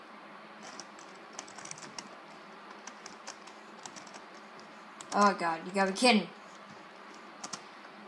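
Fast clacking bursts of keys on a computer keyboard, quiet and close, scattered through a Minecraft server session while a player talks excitedly over them.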